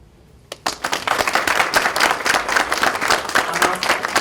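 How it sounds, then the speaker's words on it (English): An audience at a community health summit breaks into applause after a brief quiet moment, many hands clapping in a thick, rolling burst that stays loud and busy for about four seconds. "Now, one more time. Start clapping."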